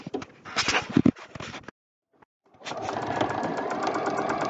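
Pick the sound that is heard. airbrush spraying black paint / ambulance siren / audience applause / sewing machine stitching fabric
sewing machine stitching fabric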